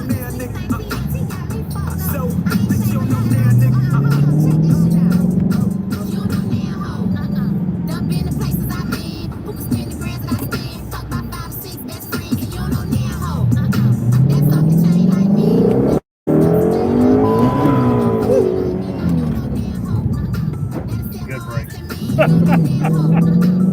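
Shelby car engine droning and revving up and down through rising and falling pitch sweeps, close and loud from inside the cabin, with a brief dropout midway and people talking over it.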